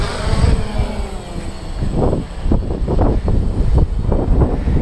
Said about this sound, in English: it's incredibly windy right now